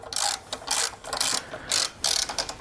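A ratcheting screw extractor turns out a broken bolt from an engine, giving repeated close clicking ratchet strokes in rhythmic bursts with short pauses between pulls.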